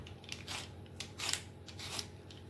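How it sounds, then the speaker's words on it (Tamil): Chow chow (chayote) vegetable being peeled by hand in a kitchen, giving a series of soft, close scraping strokes in an irregular rhythm of about five or six passes, with no talking. "முதல்ல இந்த காய் எடுத்து நல்லா அதை மேல் தோலெல்லாம் சீவி எடுத்துக்கலாம்."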